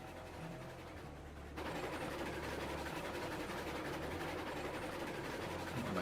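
A Heisler geared steam locomotive in the game Railroads Online runs at full speed with spinning wheels, a steady loud chugging rumble and rattle that swells and holds constant, with no talk.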